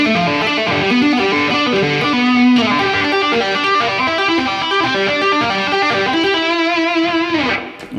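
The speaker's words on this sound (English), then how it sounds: "So let me try, I'll play through it slowly," Distorted electric guitar plays the riff slowly, with a continuous run of picked notes and no vocals, ending abruptly.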